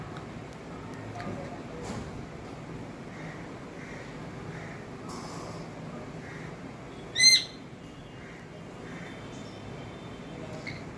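A caged pet bird kept outdoors under a cloth cover gives a series of faint repeated calls, then one loud, sharp, close call partway through, with voices talking in the background.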